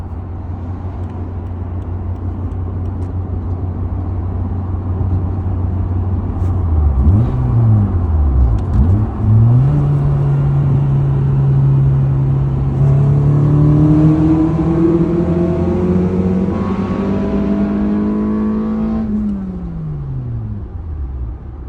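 A Ford Focus RS engine booms through a tunnel on a rainy mountain road, loud and close, with a low idle swelling into hard revs, wavering up and down in pitch and echoing off the walls, then easing off near the end.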